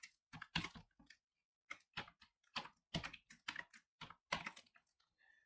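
Password being typed on a computer keyboard, a brisk run of separate key clicks in bursts with short pauses, close and fairly quiet, with no talking.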